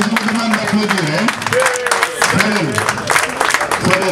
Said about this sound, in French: Fadel Fall, je vous demande d'applaudir